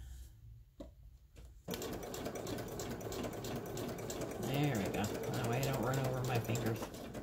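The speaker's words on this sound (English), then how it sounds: "Do a straight stitch. Watching me sew is like watching paint dry" Sewing machine running a straight stitch through paper, a steady rapid mechanical whir after a brief quiet start, with a person talking over it.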